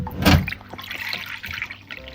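Water is poured from a carried vessel to refill the drinking containers for alpacas, opening with a brief splashing gush followed by softer trickling and dripping, close by and moderately quiet, with no talking.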